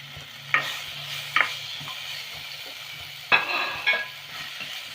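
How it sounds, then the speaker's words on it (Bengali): Spices and coriander stems are stir-fried in a pan for shahi paneer, with a constant close sizzle and four distinct scraping stir strokes spaced through it. "এখানে আমি মশলাটা এক থেকে দু মিনিটের মতন একটু কষে নেব"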